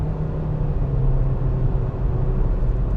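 Cabin engine drone of a 2021 Nissan Versa S accelerating hard on the road, a steady low rumble that holds at a constant loudness throughout, with no talking.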